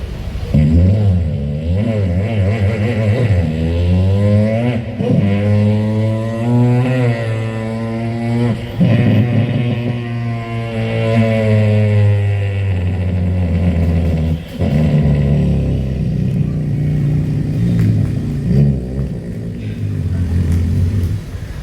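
A man vocally imitates a superbike or stunt bike engine, his voice rising and falling in long revving sweeps and throttle bursts, loud and close, without real engine noise.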